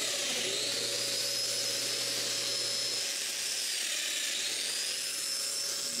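Domino joiner cutting mortises in wooden boxes for a convertible dresser, a loud, continuous high-pitched whine that holds steady and close throughout with no pauses or voices.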